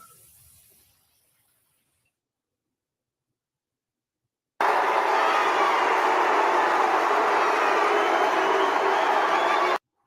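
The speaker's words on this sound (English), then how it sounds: "Y'all hear them booing him?" Dense crowd booing at an award show as Suge Knight comes out to accept an award for Tupac, a loud sustained roar that bursts in abruptly after near silence and holds steady.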